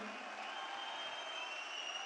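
Audience applause at a business talk: a steady, faint wash of clapping from a crowd, sustained evenly for about two seconds with no voices over it.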